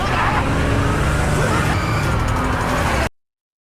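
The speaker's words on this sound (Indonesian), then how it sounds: "si Kun mengemudikan mobilnya dengan cara atret" During a movie car chase, a car drives hard in reverse. The roar of the engine and road fills the clip loudly and steadily, then cuts off abruptly just after three seconds.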